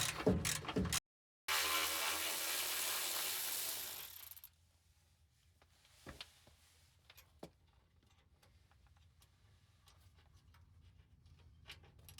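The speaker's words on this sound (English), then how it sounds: "I'm gonna go get my electric ratchet." An electric ratchet works bolts on a 2018 Toyota Tacoma, two close, loud whirring bursts with a short pause between, followed by quiet scattered clicks and tool handling.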